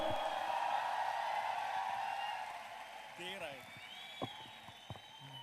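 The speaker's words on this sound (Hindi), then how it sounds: "जोरदार तालियां for our next VMCM" Sustained applause from an audience welcoming a speaker to the stage, a dense steady clatter that fades after about three seconds, followed by a few scattered claps and brief voices.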